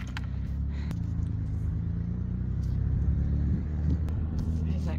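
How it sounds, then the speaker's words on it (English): A small car pulls away on a mountain road near a hiking trail, its engine rumble low and fairly close, with a brief rise as it accelerates mid-way amid outdoor wind noise. "Cool little car driving away."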